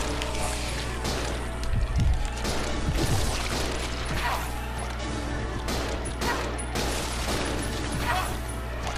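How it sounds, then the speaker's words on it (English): Pistol shots in Resident Evil 0 amid a busy game soundscape, a few sharp reports at the start and middle over a constant droning background, with a player talking now and then. "I'm gonna have to just start going ham with the pistol"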